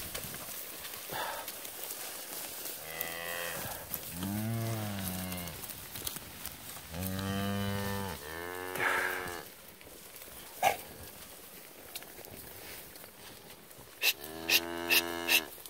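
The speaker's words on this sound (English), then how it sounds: "Hopefully these cows are smart enough to know which way to go." Cattle being driven along a dusty trail moo loudly and close, several long drawn-out calls spread across the stretch with quieter gaps of shuffling and background noise between them.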